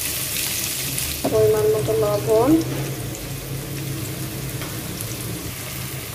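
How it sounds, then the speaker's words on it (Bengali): Cumin and onions fry in hot oil with a broad, steady sizzle that stays close and even under a woman's brief speech. "তেল দিয়ে একটু জিরা ফোড়ন দিয়ে দিলাম, এখন পেঁয়াজ দিয়ে দিব পরিমাণ মতো।"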